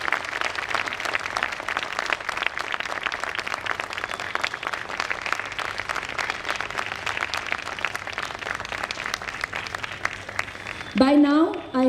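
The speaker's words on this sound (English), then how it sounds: "May I request a huge round of applause for our national president, please." A large audience at a women's organisation anniversary celebration gives sustained, dense applause for their national president, continuous clapping throughout before a voice speaks over the tail end.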